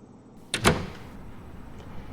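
A door opens with a short clunk and brief creak in a visual novel game, a single close sound followed by quiet room tone, with no talking.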